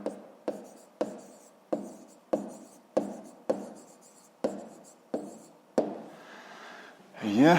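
Handwriting on paper sounds as a series of about ten evenly spaced, close pen strokes, each a short scratchy tap. A brief voice rises at the very end.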